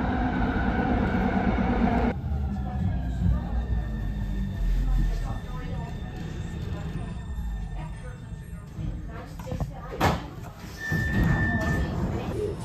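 A Copenhagen metro train rumbles along with shifting rail noise and a brief high squeal near the end; faint voices murmur in the carriage.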